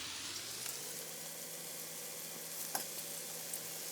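Onions cook with added salt in a pan, giving a steady, even sizzle with small crackles and a faint stir or two, fairly close and without speech.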